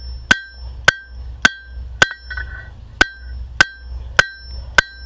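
A blacksmith works hot metal on the flat face of an anvil set on a shaky stand, giving eight sharp, ringing hammer strikes at a steady, evenly spaced rhythm, each one loud and close with a bright metallic clang.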